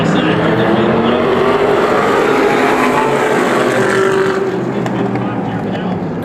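Modified race cars roar around the Bullring short track in Las Vegas, a dense, continuous engine din from the pack racing together, loud and unbroken, with an announcer speaking over it.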